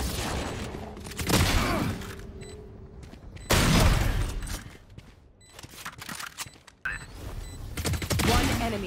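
Vandal rifle gunfire in the shooter game Valorant, heard as a few sharp, loud single shots spaced seconds apart, each with a quick decaying tail, mixed with other game sounds.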